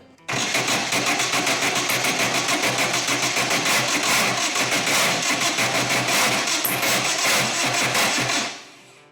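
The engine of a Van Diemen RF96K Formula Ford race car under restoration cranks on the starter, a loud, fast, even chugging that runs for about eight seconds and then stops without catching.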